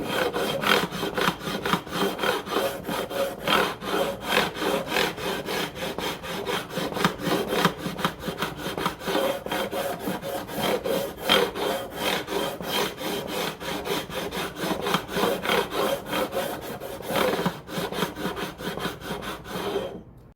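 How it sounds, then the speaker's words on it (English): A coarse file levels the frets on a vintage Alvarez 12-string guitar being refretted, making a close, steady rasping that repeats in quick back-and-forth strokes for the whole stretch, with no voices. "the next thing is to level them. Take the same coarse file."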